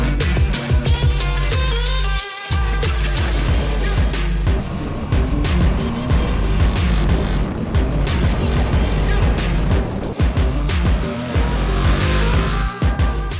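A KTM 1290 Super Duke GT 2022 sport-touring motorcycle climbs a twisty mountain road, its engine droning loud and steady with brief gear-change dips and wind noise throughout.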